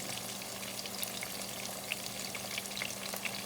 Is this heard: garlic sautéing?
yes